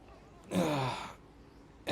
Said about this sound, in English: let's just take an opportunity now to breathe in and stretch.